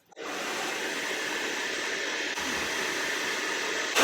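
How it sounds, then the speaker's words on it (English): A handheld hair dryer blows steadily close by, a constant broadband whoosh with a slight shift in pitch partway through and a brief bump in airflow near the end, no talking. "So I'm going to now put the hair dryer on."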